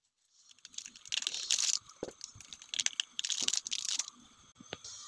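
Four Maggi masala packets are torn open and shaken out into a pot of boiling water, giving close crinkling, tearing and rustling bursts of plastic wrapper in uneven clusters, with no talking.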